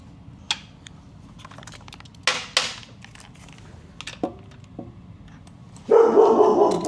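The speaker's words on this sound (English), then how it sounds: "that was the zip gun hitting the gas tank" A few sharp metallic knocks as an air-powered zip gun hits a motorcycle's metal gas tank, one ringing briefly like struck sheet metal, then a loud, sustained rattling burst from the tool close by.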